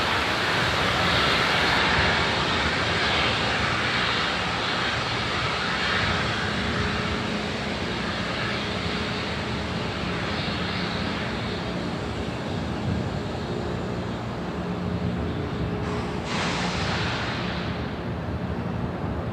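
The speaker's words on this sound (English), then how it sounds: "That white cloud you see is us venting the TE LOX line" SpaceX Falcon 9 on the launch pad venting its TE LOX line before launch, a steady, broad hissing roar that holds evenly throughout, with a brighter burst of hiss near the end.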